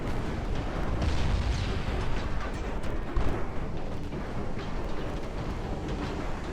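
Naval guns fire high-explosive shells in Ultimate Admiral Dreadnoughts, a warship battle game. A continuous loud, rumbling barrage of booms rolls on, with one sharper bang standing out midway.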